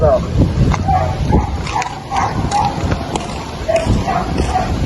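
A dog barks several times in short yips amid background noise, with people talking nearby.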